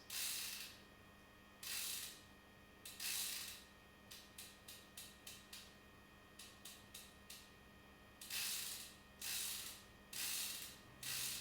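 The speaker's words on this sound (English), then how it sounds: "the ratchet mechanism itself. It spins like a top." A hand brace's ratchet spins freely in bursts, with rapid clicking pawl sounds and a few evenly spaced sharp ticks in between, close and clear.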